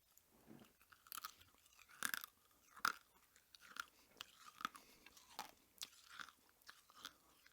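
Close, wet chewing and crunching of stiff, decades-old bubblegum from a 1987 ALF trading card pack, with irregular bites and smacks sounding sharp and near in a quiet room.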